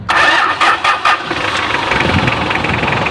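A Mitsubishi L300 Versa Van engine, repaired after its wiring caught fire, cranks in a few quick rhythmic bursts, then catches and settles into a loud, steady idle.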